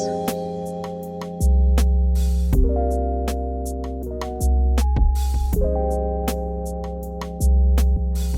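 A quantized drum pattern programmed in Ableton Live's Drum Rack, with crisp evenly spaced hits over a deep sustained low tone, looping steadily and loudly with no talking.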